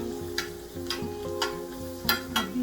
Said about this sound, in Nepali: यो अनारसालाई चाहिँ माथिबाट यसरी घिउ हालिदिनुपर्छ हामीले।